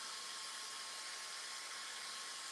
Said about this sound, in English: Hair dryer 6-10 inches away from the beard-ish.